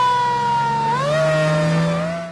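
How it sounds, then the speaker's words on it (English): Emergency vehicle sirens sound loud and close as the vehicles leave one by one: a sustained wailing tone that sweeps upward, then holds steady over a low engine rumble. "they turn on the sirens"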